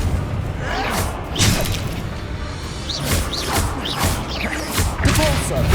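Confringo blasting-spell explosions in the Hogwarts Legacy video game, several thuds and booms landing over a few seconds amid combat effects, with whooshing spell sounds and a voice speaking over them.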